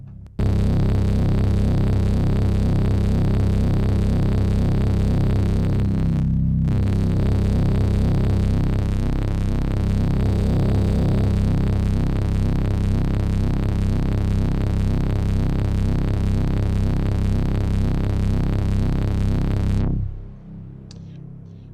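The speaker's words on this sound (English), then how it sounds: "Back to the untreated sound of the oscillator." A raw, untreated Buchla synthesizer oscillator tone runs through a Tascam mixer, a loud steady buzzy drone with a brief dropout around six seconds before resuming, then cutting off near twenty seconds.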